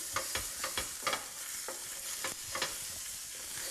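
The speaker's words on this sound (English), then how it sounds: "just a quick stir, and then you add your diced meat, and quick stir again" Diced beef stirred into a sizzling Hungarian goulash pot, several distinct scraping stirs and knocks over a steady frying hiss.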